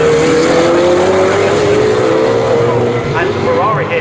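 GT race cars, a Ferrari and a Porsche, roaring down the straight at Snetterton in a championship race, a loud sustained engine drone with shifting pitch throughout.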